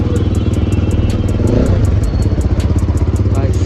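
A GPX Demon 250cc motorcycle on its stock exhaust idles loud and close, with a rapid, even, throbbing beat that swells briefly as the throttle is blipped.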